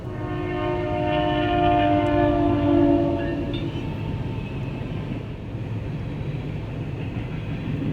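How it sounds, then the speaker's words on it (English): A CN manifest freight train led by a CN GEVO locomotive sounds a long, loud, harmonic horn blast for about three seconds. The rumble of the rolling train continues steadily afterward. "It was a CN manifest with a CN GEVO leading and nice X-City rail as a DPU."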